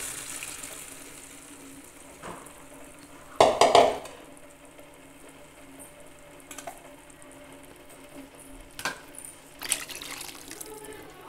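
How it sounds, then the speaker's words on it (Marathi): Water and lentils poured into a pot of spicy Maharashtrian amti: a brief loud splash and gurgle, then faint stirring, scraping and occasional clinks in a quiet kitchen. "ते आणि डाळ घालणार आहे त्यामध्ये।"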